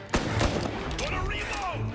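Gunshots in Mafia Definitive Edition, a quick burst of sharp cracks, a few close shots in the first half-second followed by more scattered reports, with a voice shouting among them.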